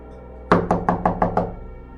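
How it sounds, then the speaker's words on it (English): Six quick, evenly spaced knocks on a wooden door made with fingertips rather than a fist, crisp and close after a half-second of quiet, each tap decaying briefly into a faint room hum. "each knock sounded like they were touching the wood with their fingertips"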